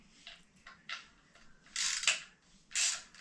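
Limb bolt being tightened on an Oneida Eagle compound bow, a series of short metallic clicks and ratcheting scrapes, close and fairly quiet, irregular bursts with pauses between.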